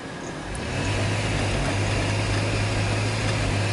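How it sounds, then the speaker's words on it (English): A Chrysler 3.8 engine with misfires revs up under a power brake test, rising quickly into a loud, sustained, rough drone close by and holding steady without speech. "So doing a little more aggressive power brake test."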